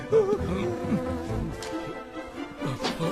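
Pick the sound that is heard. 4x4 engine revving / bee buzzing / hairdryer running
bee buzzing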